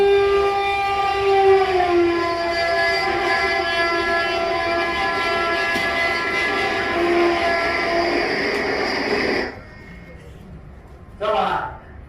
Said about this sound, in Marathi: लोणावळ्याला जाणारी लोकल प्लॅटफॉर्म क्रमांक